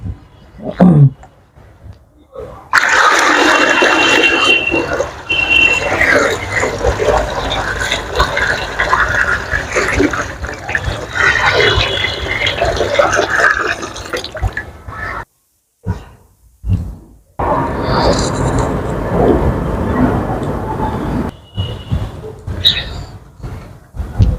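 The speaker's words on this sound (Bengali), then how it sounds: "আর 1 বালতি জল নিয়ে আসছি। ঠিক আছে, নিয়ে আসুন। নিন, ঢেলে দিন।" A bucket of water is poured out over an idol being immersed for a religious immersion ritual at home rather than in a river, a long continuous splashing rush lasting several seconds, followed by a brief pause and another pour.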